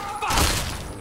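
Gunshot in the Fallout 3 video game: one heavy, broadband blast early on that decays into a noisy tail, followed by a second sharp onset at the very end.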